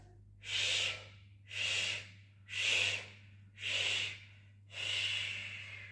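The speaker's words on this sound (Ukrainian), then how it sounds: "Вдих." Slow, deliberate inhalations during a breathing exercise, five separate airy breaths in an even rhythm with short pauses between them, close and moderately loud with a low steady hum underneath.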